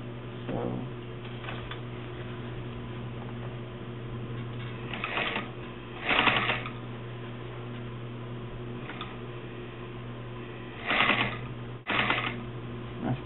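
A sewing machine stitching the round end of a fabric bag or cover, short whirring bursts of stitching separated by quiet pauses, fairly close and moderately soft.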